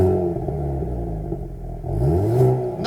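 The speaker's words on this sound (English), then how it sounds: "Let's take a listen with the valves closed, which happens in eco or normal mode," A 2022 Hyundai Kona N with its exhaust valves closed in eco or normal mode revs up, giving a low, muted engine drone that dips and then swells as the revs climb, moderately loud and close.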